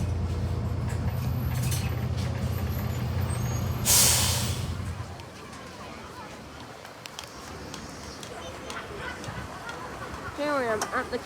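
A Portland Coaster ALX 400 bus idles at Weymouth's King's Statue bus station with a steady low engine rumble, then a loud air-brake hiss bursts out before the noise eases into quieter engine and street sounds.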